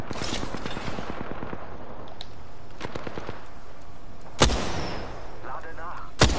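Gunfire in the battle royale video game Apex Legends: a rapid burst of automatic shots at the start, a second quick volley near the middle, then sharp single loud blasts, with a voice speaking between them.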